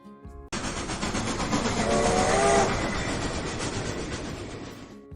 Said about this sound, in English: All right, Chris, we can take a train ride.